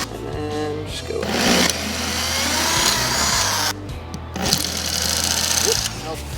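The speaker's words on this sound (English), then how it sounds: "We'll drill the other one here" A power drill bores into wood while a homemade beer-can grill is assembled, two sustained whirring bursts separated by a short pause, loud and close, with someone talking between them.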